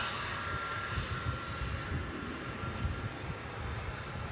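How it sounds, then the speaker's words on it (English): An Airbus A300 passing at an airport at night, a steady broad engine roar at moderate distance that holds evenly throughout, with no other sounds standing out. "So here comes the A300."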